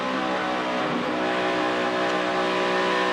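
A NASCAR Sprint Cup race car at Michigan in 2011 drones steadily and loudly, heard from inside the car as the driver lifts off the throttle and quickly gets back on the gas.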